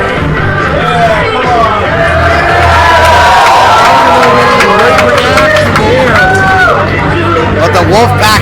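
A packed crowd at a 3WA wrestling event cheers, shouts and roars loudly and continuously, with a dense babble of many voices and occasional higher yells rising over the din.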